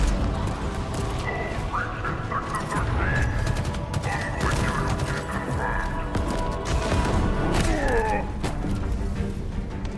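Explosions and rapid weapon fire crowd a Halo Infinite multiplayer match in a dense, continuous barrage of blasts, crashes and thuds that stays loud throughout.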